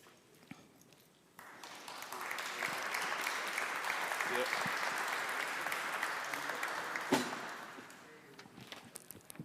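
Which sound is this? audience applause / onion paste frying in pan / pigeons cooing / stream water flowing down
audience applause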